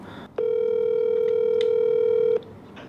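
A single steady ringback tone sounds for about two seconds while placing a phone call to a café owner, loud and alone over quiet room background.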